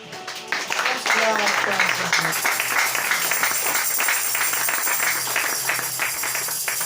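A church congregation breaks into applause, a dense wash of clapping sustained for several seconds with a voice speaking over the top.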